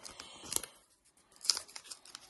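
A red paper surprise packet is unwrapped by hand, giving close, crisp crinkles and two sharp rustling bursts of paper with quiet gaps in between.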